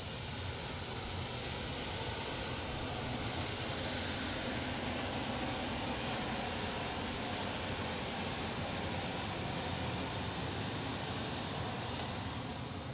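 Engine roar of the world's largest aircraft, a very large airplane at Zanderij airport in Suriname, a steady broad rumble with a sustained high whine that holds loud and unbroken throughout.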